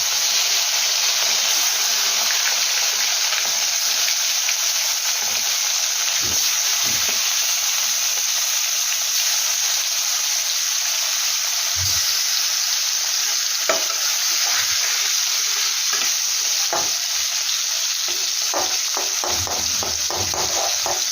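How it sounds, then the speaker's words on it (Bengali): Fresh fish frying in hot oil over a lowered gas flame, a dense, steady, close sizzle and hiss running throughout, broken now and then by soft clicks and scrapes of handling. "তো এখন তেল গরম হয়ে গেছে, আমি গ্যাসটাকে কম করে আমি একটা একটা করে মাছ ছেড়ে দেবো।"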